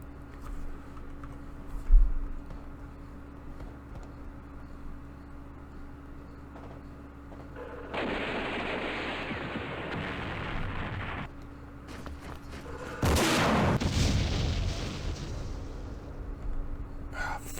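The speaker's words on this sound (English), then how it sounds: "Frickin' recoilless rifles." Recoilless rifle fire in the Vietnam war game Campaign Series Vietnam: a sharp thump, then two long, loud roaring blasts that each sustain for several seconds, set against a low steady background hum.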